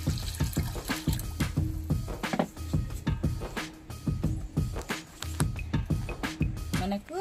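Water poured into a large container, about 200 litres, to dilute organic fertilizer for potted plants, splashing and gurgling steadily at close range with rhythmic sloshes and a voice partly under it.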